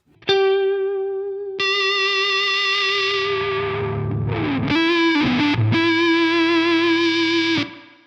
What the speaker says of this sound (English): you can get some great sort of fuzz tones out of it